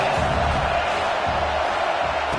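A stadium crowd roars on third down in NCAA 26 college football, a steady, dense wash of cheering that holds level throughout.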